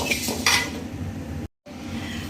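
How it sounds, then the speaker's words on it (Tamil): Coriander seeds dry roasting in a hot pan, heard as a steady dry scraping and rustle with a couple of metallic spoon clinks near the start and a brief dropout partway through. "இப்போ வந்துட்டு தனியாவை வறுத்து எடுத்துக்கலாங்க. ட்ரை ரோஸ்ட் பண்ணிக்கலாம்."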